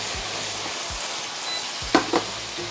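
MSG browning on top of ingredients in a frying pan fizzes with a steady sizzle, cut by a few soft low scrapes of stirring and two brief sharper clinks near the end.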